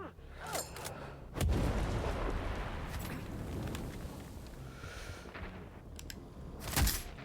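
A few sharp gunshots in a sniper-style video game, fairly faint against a low background hiss, one early crack and another near the end, with no talking.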